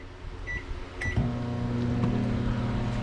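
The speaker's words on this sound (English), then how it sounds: "I'm going to pop it in the microwave for about 15 seconds." A microwave oven hums steadily after a couple of short beeps, a constant close drone with a faint click partway through. No one speaks.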